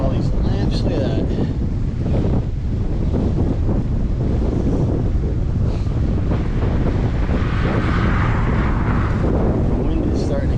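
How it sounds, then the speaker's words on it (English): Strong wind roars steadily across the microphone of a touring bicycle on the road, loud and continuous throughout with a brief faint voice near the start. "The wind is starting to kick up,"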